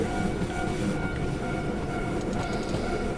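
A train on the Wakayama-Sakurai Line in Train Simulator 2016 rolls steadily, with a continuous low rumble and wheel noise and faint tonal whines, no talk over it.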